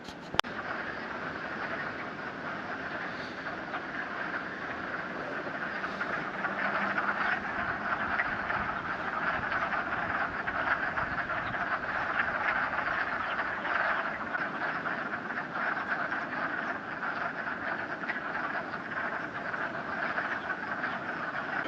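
A dense, steady chorus of wood frogs croaking in a swamp during mating season, a continuous rattling clatter with no pauses, moderately distant.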